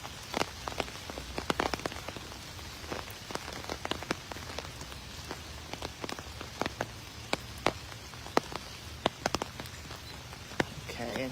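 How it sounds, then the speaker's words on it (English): Raindrops patter on an umbrella in a Camden cemetery, a steady dense tapping with frequent sharper close drops over a soft continuous rain hiss, no voices. "if the raindrops on the umbrella are too loud, I'll get rid of the umbrella and get wet"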